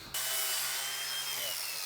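Coarse 40 grit sandpaper scrubs hard against plastic trim on a Ford F450, a continuous loud rasping grind that starts abruptly and holds steady for under two seconds.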